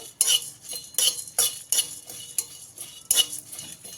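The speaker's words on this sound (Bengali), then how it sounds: "কড়াইতে দিলাম একটা শুকনো লঙ্কা হাফ চামচ জিরে হাফ চামচ গোটা ধনে দিয়ে এবারে খুব ভালো করে ভেজে নেব" Dried chilli, cumin and whole coriander dry-roasting in a wok, heard as irregular metallic scrapes and clinks of a utensil against the pan, close and moderately loud.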